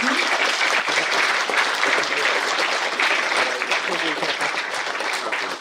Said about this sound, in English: I request everyone to kindly take this and applaud for the meritorious students.